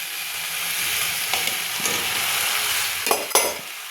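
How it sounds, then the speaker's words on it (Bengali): Fried potatoes sautéing in a dry cauliflower curry, a steady close sizzle with a few sharp stirring scrapes and clicks near the end. "এবারে এর মধ্যে আলুগুলো দিয়ে দিচ্ছি"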